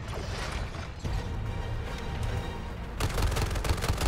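Gunfire in Suicide Squad: Kill the Justice League comes as dense, continuous bursts of rapid shots with booming low thuds, loud and close, growing heavier partway through.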